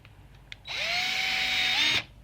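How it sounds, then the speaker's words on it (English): A power drill whirs steadily for about a second and a half while driving screws into a custom car speaker mount in a rear side panel, with a brief rising pitch near the end before it cuts off. "start on your screws first before you tighten anything down"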